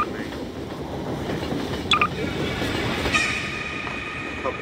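A rumbling video game train rolls on steadily while short electronic beeps and tonal chirps cut in now and then over the constant mechanical roar.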